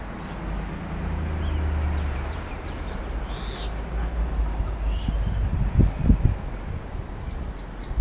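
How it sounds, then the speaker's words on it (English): Strong wind gusts blow outdoors in a steady low rumble against the microphone, swelling and buffeting harder toward the end with a few thumping gusts. "it's already getting very windy"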